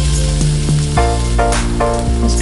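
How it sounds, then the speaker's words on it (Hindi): Ginger garlic paste sautéing in a little oil in a pan, a loud continuous sizzle with several sharp stirring clacks of a utensil against the pan. "उसमें जिंजर गार्लिक पेस्ट और उसको 2 मिनट तक सौते कर लेते हैं।"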